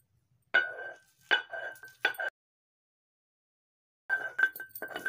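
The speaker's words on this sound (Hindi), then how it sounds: "इसको अच्छे तरीके से सिल पर पीसेंगे" Four red chillies ground on a stone slab (sil), rough grating strokes with a ringing, clinking edge, heard close in three quick bursts, then a pause before another run of strokes.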